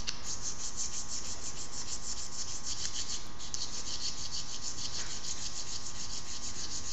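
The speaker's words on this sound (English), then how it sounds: "Make sure you cut your damn sandpaper long enough so you can hang on to it." Sandpaper rubs back and forth in the slide groove of a 1911 pistol, a steady close abrasive scratching with faint periodic ticks, no talking.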